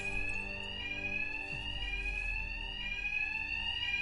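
A continuous fire alarm rings steadily in Batman Arkham Knight, a loud, sustained electronic tone with layered harmonics holding throughout with no break, with a faint low thump partway through.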